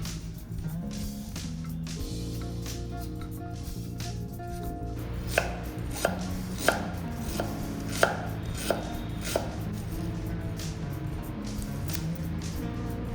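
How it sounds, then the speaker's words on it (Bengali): A knife chops onion, garlic and ginger for a chicken curry, a series of sharp, distinct taps on a board spaced about a second apart, fairly quiet against a faint steady background hum. "আদাটাকে ভালো করে ধুয়ে নিয়ে কেটে নিয়েছি।"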